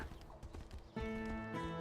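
In the video game Tainted Grail, a summoned horse trots up with quick hoof clip-clops and then gives a drawn-out whinny that rings over the hoofbeats, heard clearly and without speech.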